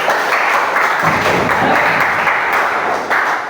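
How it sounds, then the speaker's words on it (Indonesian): Classroom applause during a lesson on conserving natural resources, a steady dense patter of many hands clapping together for the full stretch, loud and close with no talk over it. "Tepuk tangan untuk teman kita."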